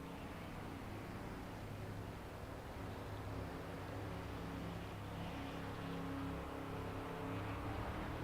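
Race car accelerating hard out of a pit stop at Dover in a racing video game, a steady loud engine roar holding constant throughout with no voices.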